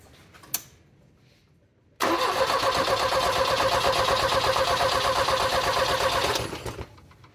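A Volvo 240 engine that will not start cranks after a single click, with a loud, steady rapid chug of the starter for about four seconds before it winds down, close up, with no speech.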